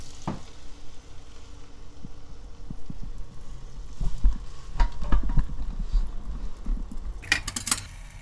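A thin buckwheat kimchi pancake fries in a pan with a steady low sizzle, broken by scattered light clicks and scrapes of a utensil against the pan.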